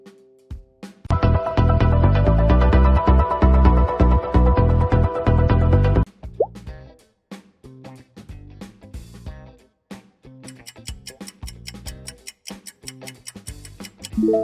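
A Tecno Mobile smartphone ringtone plays a bright, dense electronic melody for several seconds, then breaks into sparser plucked tones and short ticking notes, loud and close with no voices.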